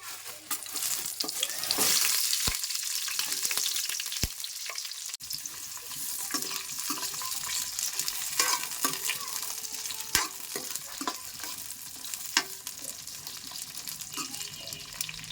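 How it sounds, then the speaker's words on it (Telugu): Green chillies crackle in hot oil with a dense, steady sizzle and hiss, punctuated by occasional sharp pops and knocks, close and continuous for about fifteen seconds without talking. "ఇప్పుడు ఆయిల్ వేడెక్కింది ఇప్పుడు మనం పచ్చిమిర్చి వేసుకుందాం"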